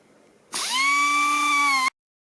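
An air-powered sanding tool with 240 grit sandpaper runs on a machined motorcycle wheel, a close, loud, high-pitched whine that starts abruptly, holds steady for about a second and a half, then cuts off.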